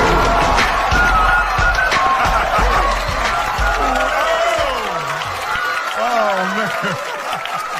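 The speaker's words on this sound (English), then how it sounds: "So please give this next gentleman a warm round of applause. Make some noise for what's his face." Stand-up comedy audience applauding and cheering as the next comedian takes the stage, loud crowd clapping and whoops filling the room, with voices and shouts layered over the din and the noise slowly easing toward the end.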